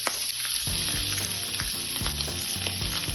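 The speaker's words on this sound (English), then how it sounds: "I've now added my black beans to the pan." Black beans fry in a pan with a steady hiss and sizzle, close up, while stirring and scraping knock in a loose, irregular rhythm.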